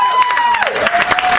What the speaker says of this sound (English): Give yourself a round of applause, baby.